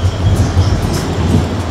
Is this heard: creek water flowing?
no